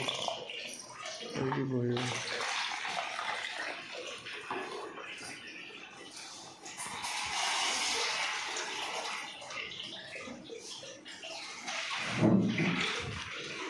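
Water pours steadily into the tank of a household air cooler, a continuous splashing rush running through the whole stretch, with a person speaking briefly near the start and again near the end.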